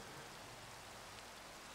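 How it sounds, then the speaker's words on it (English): Rain in the Minecraft video game falls as a faint, steady hiss of broadband patter, continuous and unvarying, with no voices over it. "Oh, rain!"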